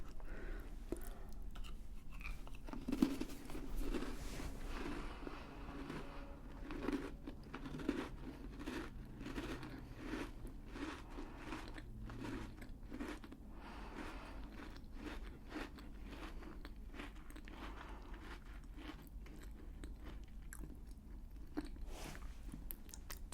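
Butter biscuits are chewed and crunched up close in a quiet room, with steady, repeated soft crunches and mouth sounds that continue for over twenty seconds.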